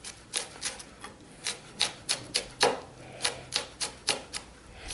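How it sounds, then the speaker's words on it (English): A knife finely cross-cuts red bell pepper on a board with a steady run of about fifteen crisp, close chops at an even quick pace. "You're just going to cross cut it really fine, keeping your fingers out of the way."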